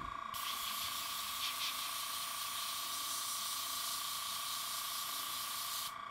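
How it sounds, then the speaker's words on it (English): An airbrush sprays paint with a steady close hiss that starts abruptly and runs unbroken for nearly six seconds before stopping. "I like how the airbrush is doing that with the paint."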